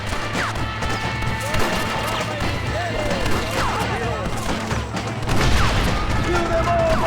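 Gunfire in the Red Dead Redemption video game, a dense run of shots and smashing impacts over steady background noise, with voices shouting in the mix.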